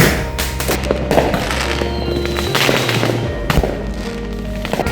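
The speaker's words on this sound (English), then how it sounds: "I don't care how old the fireworks are. It's still insane." Old fireworks going off at a New Year celebration, a rapid barrage of loud cracks and booming bursts with crackling in between, continuous and close.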